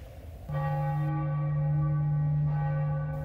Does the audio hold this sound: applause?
no